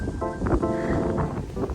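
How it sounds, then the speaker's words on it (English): Gusty wind buffets the microphone in rumbling low rushes, loud and close, with no voices. "It's windy today!"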